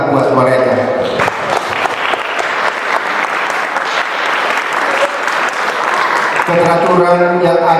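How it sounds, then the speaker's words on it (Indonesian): A crowd of students at a boarding school's Independence Day thanksgiving event bursts into loud, sustained applause, with a voice talking briefly at the start and again as the clapping fades at the end. "berikan tepuk tangan yang meriah buat mereka"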